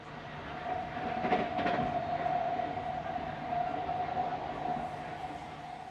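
KiwiRail WW class diesel locomotive hauling a freight train on the Main Trunk Line, a steady rumbling roll with a sustained tonal drone and a brief surge of clatter, heard continuously from fairly close.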